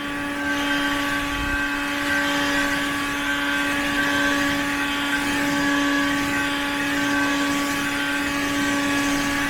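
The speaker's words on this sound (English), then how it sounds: "I'm going to put it on turbo. Oh, an immediate power difference." Loud, steady whine of a Ryobi 18V HP cordless leaf blower running on turbo, a close, sustained motor drone with strong tonal hum and airy rush throughout.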